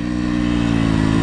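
A Yamaha YZ250F dirt bike engine drones steadily and loudly on a motocross track, a close, continuous four-stroke roar with strong low harmonics and no pauses.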